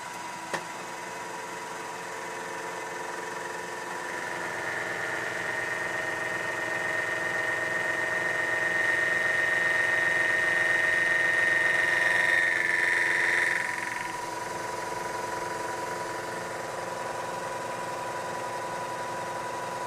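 Milling machine cutting tall bell stand leg adapters, a steady mechanical hum with rhythmic vibration and a high whining tone that swells for several seconds before easing back, no voices.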